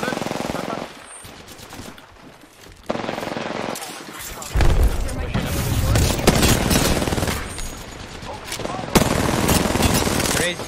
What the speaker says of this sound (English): They're getting shot at by other teams as well.